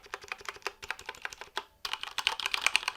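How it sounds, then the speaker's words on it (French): Fast, close clatter of typing on a Mountain Everest Max mechanical keyboard with pre-lubricated switches, a dense run of quiet clicks with one brief pause midway. "c'est beaucoup plus silencieux que beaucoup de claviers mécaniques de chez MX, les MX Cherry Red"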